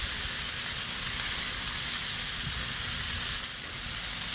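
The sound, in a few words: grilled onions sizzling on a Blackstone griddle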